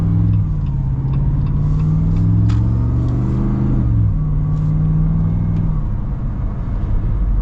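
A Jeep Gladiator 392 with a 6.4-litre V8 accelerates from inside the cab, a loud, deep engine rumble climbing in pitch through the gears, then settling into a steady drone.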